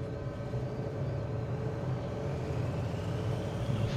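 A light aircraft engine at Land's End Airport, St Just, runs at full throttle for a windy takeoff, a loud, steady, close drone that swells slightly toward the end.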